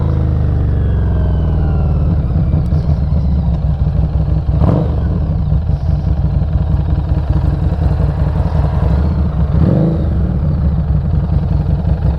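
A 2021 Harley-Davidson Street 500 motorcycle engine idling steadily and close up, a loud continuous low rumble with a couple of brief swells, no voices.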